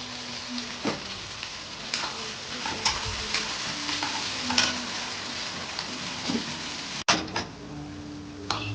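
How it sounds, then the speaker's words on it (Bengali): Mutton curry sizzling in a pan as it is stirred, giving a steady close frying hiss with scraping strokes and a sharp metallic clack near the end, and no talking. "আজকে রান্না হচ্ছে এখানে মটন"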